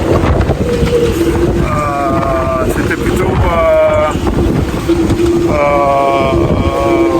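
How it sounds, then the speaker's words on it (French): Loud, constant gale-force wind in a marina, roaring and buffeting the microphone throughout, with a person talking over the gusts and a steady hum beneath. "le vent ne baisse pas quoi"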